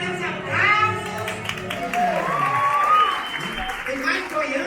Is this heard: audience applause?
yes